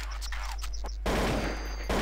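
Gunfire in a competitive first-person shooter match on an aim map, bursts of rapid shots and a sustained loud volley, close and dense with no talk.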